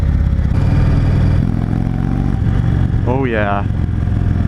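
A 2016 Indian Chief Dark Horse motorcycle engine runs at open throttle with a continuous deep, throbbing rumble close by, while someone briefly speaks over it.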